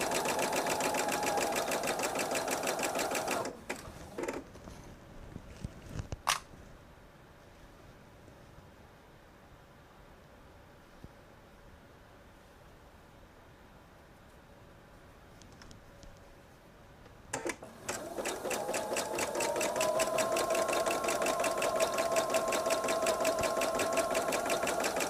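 A domestic sewing machine chain pieces quilt blocks, humming and clattering steadily at the start, falling quiet for a long stretch broken by a couple of clicks, then starting again and running continuously to the end, close by.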